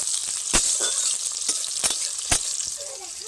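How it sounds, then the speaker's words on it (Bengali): Chopped onion and capsicum frying in a pan: a soft, steady sizzle with a few sharp clinks of a spatula against the metal, spaced about a second apart. "পেঁয়াজ আর ক্যাপসিকামটা তিন থেকে চার মিনিটের জন্য একটু ভেজে নেব"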